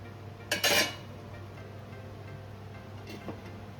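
A lid lifted off a pot of simmering tangra fish curry with cauliflower and potato, one brief metallic clatter early on, then quiet bubbling and a faint later tap.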